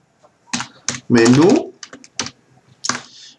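Clicky keystrokes from a computer keyboard while code is typed, a few quick bursts of taps close by mixed with someone speaking Spanish over them.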